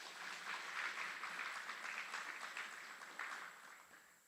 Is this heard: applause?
yes